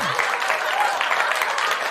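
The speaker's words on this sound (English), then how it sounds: "you done got extra applause" A short burst of recorded applause plays as a sound effect in a podcast, even crowd clapping lasting about two seconds at moderate level.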